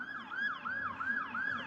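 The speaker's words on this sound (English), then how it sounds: "Well, Lana, here comes another police car right now." A police car siren wails in a fast repeating up-and-down sweep, loud and close, heard alone with no talk.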